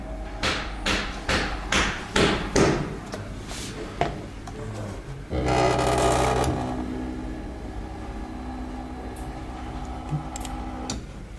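A portable pneumatic dot peen pin marking machine for VIN numbers stamps metal in loud, evenly spaced bursts of rapid tapping, then gives way to a steadier mechanical whir that fades.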